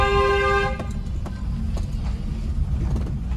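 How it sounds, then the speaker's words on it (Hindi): A car horn blares in a sustained honk that stops after under a second, followed by the rumble of traffic and a running engine with scattered clicks. "हॉर्न दो"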